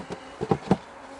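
Honeybees at a home apiary, calm colony being readied for winter, buzzing in a few soft swelling pulses close by, with no voices.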